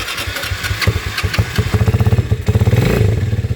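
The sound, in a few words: Rusi Mojo 200 motorcycle engine started and running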